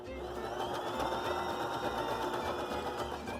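A Baby Lock Zest sewing machine stitches a zigzag in a steady, fast mechanical chatter, running continuously at close range with no talking.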